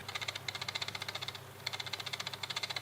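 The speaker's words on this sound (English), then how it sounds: "If you can hear the fan going on, it's because it's freaking boiling right now." The cooling fan of a hot Blackmagic Pocket Cinema Camera 4K whirs with a fast, steady pulsing rattle, close and fairly quiet, with one brief dip in the middle.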